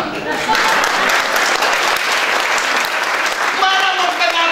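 People clap hands during a Sunday church service, a loud, continuous wash of clapping with a voice talking over it throughout.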